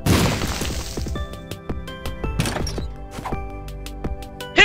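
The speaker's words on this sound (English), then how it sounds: "I drop a bomb." A bomb going off in The Binding of Isaac, a sharp crunchy blast followed by a string of bright chiming, ringing pickup-like tones and clicks over game music, ending in another burst.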